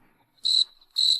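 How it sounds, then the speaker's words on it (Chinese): A fighting cricket kept as a pet in a period-drama household gives two loud, close, shrill chirping bursts separated by a short pause, with nothing else heard. "我的蛐蛐啊！"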